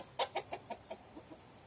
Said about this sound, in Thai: แม่ตัวนี้ก็กำลังกกไข่อยู่เหมือนกันนะครับ